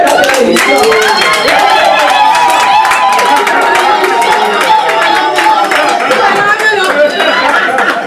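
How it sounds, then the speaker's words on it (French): Guests at a traditional African wedding dowry ceremony clap together amid loud chatter and crowd noise, the applause steady and close throughout. "Applaudissez."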